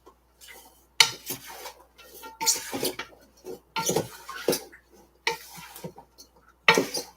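A spoon stirring curry with pepper in a pot, producing a series of scraping, clinking strokes in irregular bursts separated by short silences, close and fairly loud.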